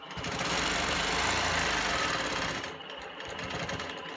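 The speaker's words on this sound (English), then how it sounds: "I just sewed a little diagonal line right here" Longarm quilting machine stitching a short diagonal line across quilt binding, a rapid mechanical whir of needle strokes running loud for about two and a half seconds, then dropping to a quieter hum.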